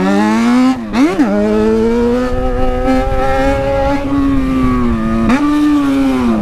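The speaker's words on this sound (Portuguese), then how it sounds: "minha moto tá ligada" A Yamaha XJ6 motorcycle engine drones loudly and steadily up close, with a couple of quick revs that rise and fall in pitch.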